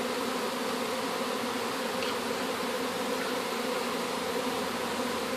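A honeybee swarm hums densely around the entrance of a pagoda-style hive, a loud, continuous, buzzing drone of many wings filling the air without pause and with no voices.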